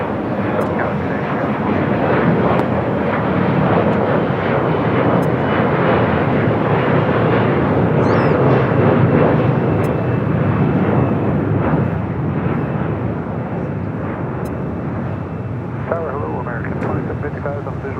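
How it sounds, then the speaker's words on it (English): A SkyWest airliner takes off from LAX on the north side, its loud, steady engine roar filling the air for the whole stretch while radio chatter and voices run underneath. "Plane 33 heading to Kahului, taking off on the north side"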